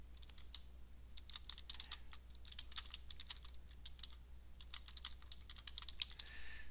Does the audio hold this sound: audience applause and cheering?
no